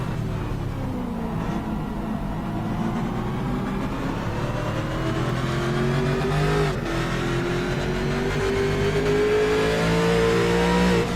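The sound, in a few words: old COT race car engine revving, onboard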